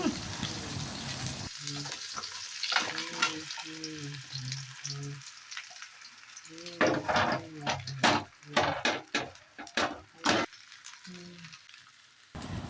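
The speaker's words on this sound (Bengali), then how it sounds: "কিছুক্ষণ নেড়ে ছেড়ে আমগুলো দিয়ে দিলাম।" Raw mango pieces with skin frying in a pan for a sweet-sour mango pickle, a constant close sizzle with scraping stirs and knocks, while a tonal voice-like sound comes and goes over it.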